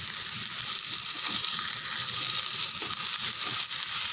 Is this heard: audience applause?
no